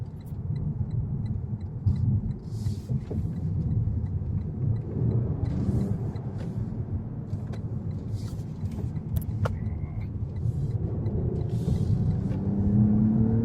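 A 2019 Lexus ES 350 F Sport is driven hard through a corner. A steady, low engine rumble and road noise fill the cabin, with a few faint clicks and knocks over it and no talking.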